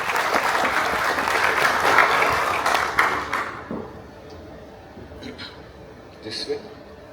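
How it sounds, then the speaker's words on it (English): Audience applause fills a corporate event hall: loud, dense clapping for about three and a half seconds, then it quickly tapers off into quiet room noise with a few faint scattered claps. "Please welcome him with a big round of applause."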